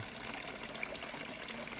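A steady, soft trickle of water pours into a bucket outdoors, faint and continuous with a light splashing texture and no voices.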